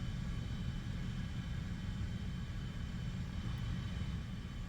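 A jet's engine in the War Thunder video game drones as a steady, loud, dense roar with heavy low rumble, continuous and unbroken throughout.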